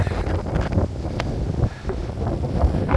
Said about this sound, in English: It were exceptionally windy